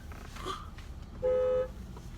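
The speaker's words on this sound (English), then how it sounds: "you keep honking the daggone horn" A single steady car horn honk lasting about half a second rises clearly above a low background rumble, with no other honks around it.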